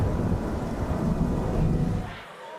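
Thunderstorm in Dead by Daylight: a sustained low rumble of thunder with rain hiss, loud and close, rolling continuously before cutting off abruptly near the end.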